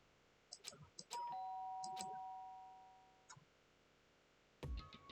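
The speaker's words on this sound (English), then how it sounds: "did I hear the doorbell?" A doorbell in the Danganronpa video game rings with a bright, clear chime that sustains and slowly decays, preceded and followed by soft clicks and small sound effects.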